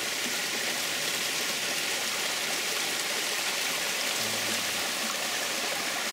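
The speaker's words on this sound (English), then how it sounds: "This is another spring. The water's just coming up out of the ground here." Steady, close rushing gurgle of spring water welling up out of the ground at Cove Spring Park nature preserve in Frankfort, Kentucky, continuous and fairly loud with no talk.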